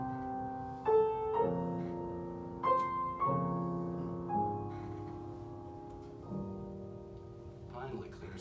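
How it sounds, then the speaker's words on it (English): A piano plays a wild series of minor chords, several struck chords ringing and decaying one after another at a soft, distant level. "And the piano plays this kind of wild series of minor chords."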